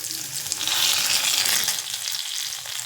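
Karpuravalli (Indian borage) leaves fry in a pan for thuvaiyal, giving off a steady, close hiss of sizzling oil that swells briefly in the middle, with no one talking.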